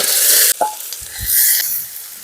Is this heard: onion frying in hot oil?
yes